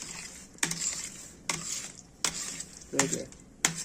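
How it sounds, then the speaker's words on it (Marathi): Pav bhaji vegetables are mashed and stirred in a pan, with sharp scraping and knocking strokes coming in about five separate bursts over a soft background hiss, close by. "असे भाजी स्मॅश करून घ्यायची म्हणजे बारीक हे करून घ्यायची"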